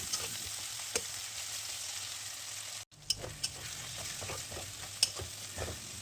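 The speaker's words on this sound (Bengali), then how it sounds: "আদা রসুন বাটার কাঁচা গন্ধ চলে যাওয়া পর্যন্ত ভেজে নেব" Ginger-garlic paste frying with tomato and green chillies in a pan for a spicy fish roe dish, a steady sizzle with a few stirring clinks and one brief gap partway through.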